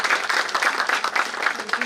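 An audience at an International Women's Day event claps together for several seconds, a lively, uneven patter of hands with a few louder spikes, heard close and with no voice over it.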